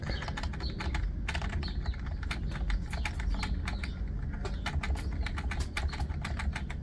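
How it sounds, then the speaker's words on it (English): Rapid, steady clicking of a single key being pressed again and again on a computer keyboard, a loud, close, continuous tapping run with no talk. "keep pushing the P button on your keyboard"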